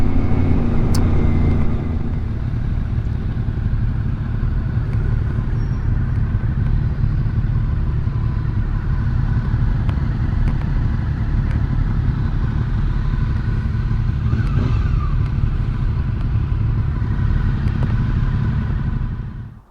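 A group of motorcycle engines rumble heavily and continuously nearby, a deep, steady drone with slight swells in throttle, holding the whole time before cutting off at the end.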